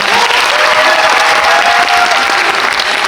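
Loud, dense applause from a film festival audience at the Busan International Film Festival, sustained close and full throughout with a faint crowd murmur underneath.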